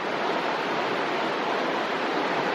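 A small mountain stream in New Zealand rushes steadily over its bed, a continuous close hiss of flowing water with no pauses and no voices.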